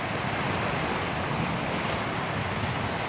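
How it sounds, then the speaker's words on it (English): Waves breaking over reefs around a tiny Caribbean island, heard as a dense, constant roar of surf mixed with gusting wind buffeting the microphone, no talk. "we had quite some waves coming in here since they break over the reefs"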